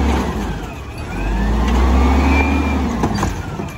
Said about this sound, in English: I'm sure the revving doesn't help the arm stability